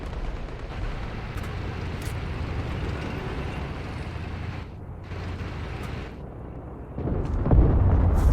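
A tank cannon fires in Call to Arms, a modern-warfare real-time strategy game, seen from first person inside the tank. A steady rumbling battle bed runs throughout, then a loud, heavy blast lands near the end.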